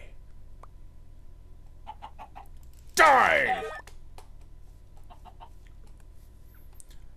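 A chicken in the Minecraft Hexxit mod gives a short burst of clucking partway through, loud against quieter game sounds, with someone shouting over it before and after.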